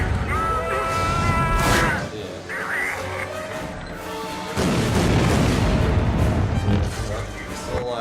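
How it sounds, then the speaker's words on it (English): Missile explosions in the Star Wars: The Force Unleashed II video game, heavy booming blasts and crashing bursts that swell around two seconds and again from five seconds on, with a voice talking over the game sounds. "surprised by the timing of the missile explosions"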